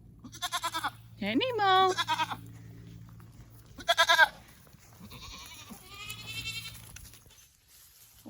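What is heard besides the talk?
goats bleating in the pasture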